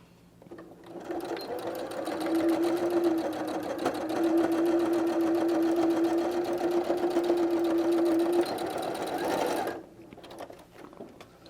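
A sewing machine stitches a seam along a canvas tote bag, a steady close mechanical whir running continuously for about eight seconds before stopping.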